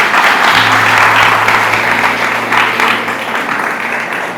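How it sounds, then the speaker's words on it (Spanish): A church congregation applauds in a dense, sustained wash of clapping that fades slightly toward the end, with a low steady hum beneath it. "Démosle ese aplauso a Jesús"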